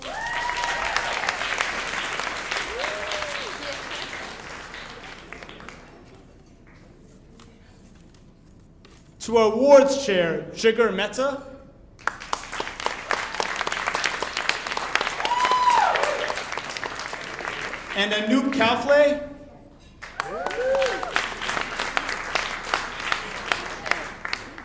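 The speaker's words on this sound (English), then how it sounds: "So please give a round of applause for Anusha Srivastava" Gala audience at a SAJA event giving rounds of applause: full-room clapping swells in several bursts, broken by a man announcing names over a microphone between them.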